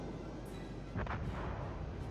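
A muffled, booming blast rolls out in the naval battle game World of Warships. It sounds distant and fairly faint, a soft swell over a steady low rumble of game ambience, with no talk.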